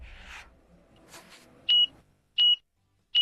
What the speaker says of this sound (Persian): تایمر دوباره راه افتاد